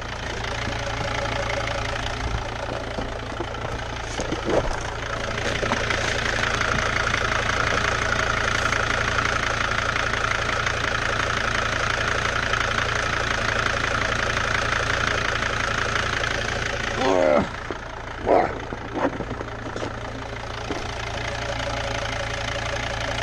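A T1N Mercedes Sprinter diesel engine idles after sitting unused for over a year, a steady knocking rumble running throughout with a few brief louder mechanical noises near the end.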